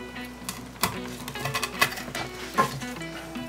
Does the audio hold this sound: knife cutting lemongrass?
yes